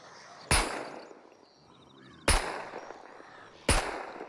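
Three sharp, loud gunshots in the survival video game SCUM, spaced irregularly over a few seconds, each a sudden crack with a short decaying tail and quiet game ambience between.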